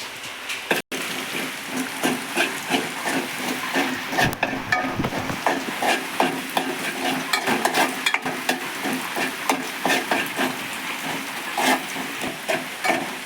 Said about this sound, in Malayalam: ഇതിൻ്റെ പച്ചമണം മാറുന്നത് വരെ നമ്മളിങ്ങനെ ഇളക്കി കൊടുക്കും